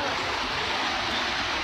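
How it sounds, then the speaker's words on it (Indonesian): Senaru waterfall in Lombok, a loud, continuous broadband rush of falling water heard close up, steady with no breaks and no talking. "Air terjun apa? Senaru."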